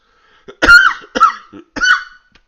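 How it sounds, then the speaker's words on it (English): Three harsh, close coughs in quick succession, each a loud raspy burst separated by short pauses, with no speech. "I'm so sorry, I'm coughing so much"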